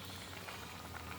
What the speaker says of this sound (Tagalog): Kumukulo na siya.